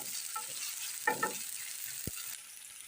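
Paneer burji frying in a pan, with a steady sizzle throughout and a few brief scraping stir strokes partway through before it quiets slightly at the end.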